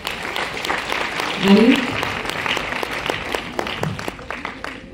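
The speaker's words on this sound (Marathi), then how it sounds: "तुम्हीच तुमच्यासाठी टाळ्या वाजवून घ्यायच्या आहेत" Audience members at a Marathi language day event clap together in a dense, steady round of applause, close and fairly loud, with a voice speaking briefly over it.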